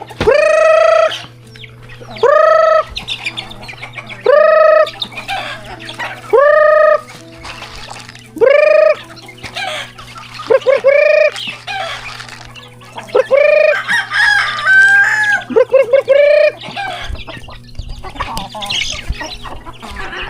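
Loud, close rooster crows repeat at a steady pace, about one every two seconds, followed by chickens clucking and squawking in a busy flurry.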